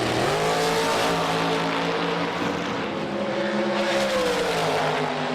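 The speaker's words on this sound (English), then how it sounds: "stock, street, dragster, and funny cars burn rubber on this quarter-mile strip" Drag racing cars at Firebird Raceway roar down the quarter-mile strip, a loud sustained engine drone with layered harmonic tones that bend and shift in pitch as the cars accelerate past.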